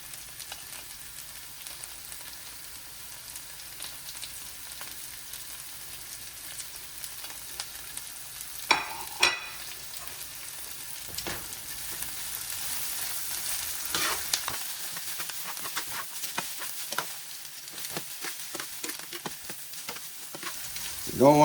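Onions and peppers for Jamaican peppered steak fry in a pan with a soft, continuous sizzle, broken by louder bursts and crackles as they are stirred.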